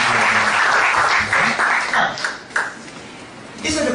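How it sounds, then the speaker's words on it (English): An audience at a product demonstration seminar applauding in a sustained, dense wash of clapping that dips briefly and then swells again. "A lot of applause"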